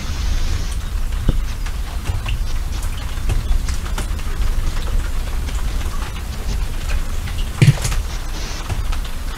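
Steady afternoon rain falls across an outdoor wetland where herons shelter, a continuous even hiss with occasional louder drops and faint knocks, heard alone without voices.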